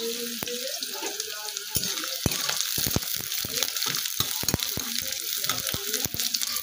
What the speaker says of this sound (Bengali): কাঁচা পেঁয়াজটা একটু লাল লাল করে ভাজতে হবে।